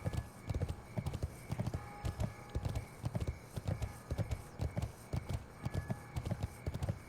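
Rhythmic clip-clop of horse hooves in World of Warcraft, a Death Knight's undead horse riding through a city, steady repeated hoofbeats at a trotting pace with faint ambient tones behind them.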